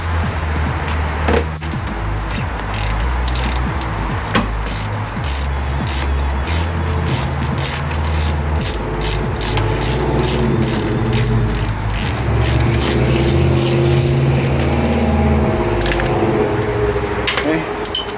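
A ratchet loosens the sway bar link nut on a Fox Body Mustang front suspension, a loud, fast, continuous clicking close to the mic that runs the whole time with metallic jangling beneath.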